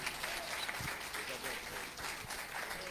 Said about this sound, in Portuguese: Dá uma linda salva de palmas, meu querido.